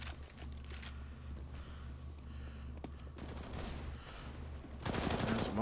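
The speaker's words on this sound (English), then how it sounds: "he's going to get taken down here by machine gun" Rapid machine gun fire crackles through a Counter-Strike match at a DreamHack Malmö Masters tournament, with dense bursts that swell louder near the end amid game noise.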